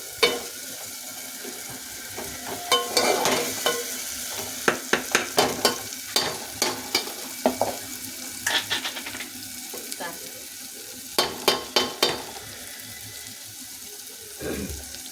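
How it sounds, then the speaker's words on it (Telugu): Potatoes and other food frying in a pan, with a spoon scraping and stirring in bursts of clattering strokes over a steady sizzle, close and moderately loud, with no talk. "ఇవైతే వేగిపోతున్నాయి"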